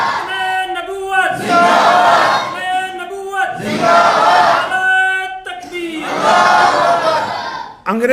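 A crowd at a Friday Juma sermon in Punjab chants the Nara-e-Takbir slogan, with a lone leader's call answered by a loud massed roar, repeated three times in a steady call-and-response rhythm.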